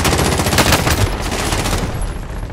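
Rapid automatic gunfire in the video game Call of Duty Warzone rattles in a loud, dense burst of shots that thins out near the end, with no talking.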